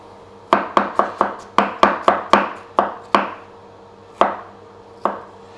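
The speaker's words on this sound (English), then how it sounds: "Next one is ginger, which I'm just going to slice and then do pretty much the same." A knife slices fresh ginger on a cutting board in about fourteen crisp, close chopping strokes, quick and regular at first, then slowing to sparse single cuts.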